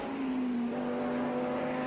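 Audi R8 LMS race car engine in a racing video game, a steady droning engine note holding a fairly constant pitch with a slight dip, loud and continuous with no talking.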